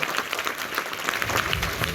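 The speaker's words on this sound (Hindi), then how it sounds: "लक्ष्मण, जोरदार क्लैपिंग दोस्तों।" An indoor audience at a success workshop claps steadily, a dense patter of many hands that swells slightly near the end.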